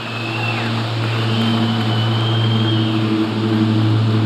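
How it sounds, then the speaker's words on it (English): Airplane engine drone flying overhead at an outdoor Tesla Semi and Roadster unveiling event, a steady, loud, continuous roar that slowly swells and holds across the whole stretch with no talk. "wait for that plane."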